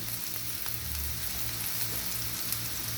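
Onions frying in a pan while being browned for a spiced fava bean (ful) dish, a steady close sizzle and crackle with a low hum beneath, continuous and unbroken throughout.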